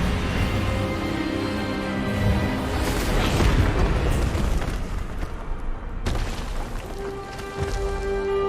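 An Expelliarmus spell is cast during a wand duel in Hogwarts Legacy, a sustained, loud, booming magical surge with a crackling, rumbling body. A sharp crack lands near the middle before a ringing tone takes over, with no talk.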